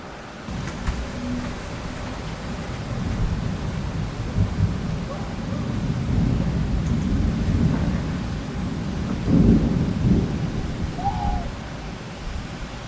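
A violent late-August thunderstorm over Bordeaux rumbles steadily, with loud, sustained rolling thunder building and swelling over a wash of rain, and a stronger crash near the end.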